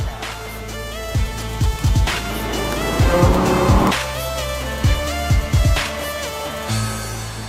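A car drives past with its engine roaring steadily, cut by repeated short tire squeals and skids throughout, loud and close.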